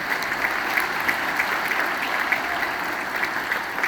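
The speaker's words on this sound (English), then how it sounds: "I want you guys to give yourselves a round of applause" An audience at a jazz ensemble band clinic gives dense, even applause that holds steadily throughout, without speech.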